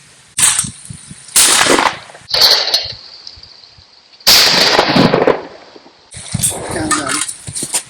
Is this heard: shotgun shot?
yes